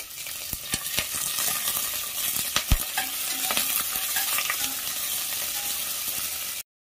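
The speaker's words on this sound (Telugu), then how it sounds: "ఆనియన్స్, పచ్చిమిర్చి ఒక 3 కట్ చేసుకున్నది వేసుకొని ఫ్రై చేసుకోవాలి." Chopped onion and green chillies fry in a pan for a chicken gravy, with a continuous close sizzle and repeated spatula scrapes and knocks throughout. The sound cuts off abruptly near the end, and no one speaks.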